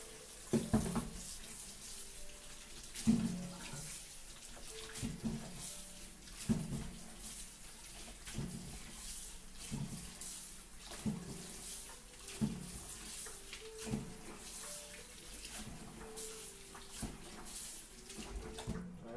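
Mushrooms getting a final rinse in water for a chicken and miso tofu soup: steady running water with repeated sloshing and splashing bursts at a fairly regular rhythm, close and moderately loud, with no voices.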